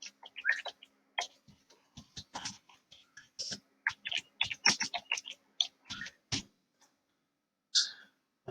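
Keystrokes tap on a computer keyboard in quick irregular bursts with short pauses, close and fairly quiet, with no voices.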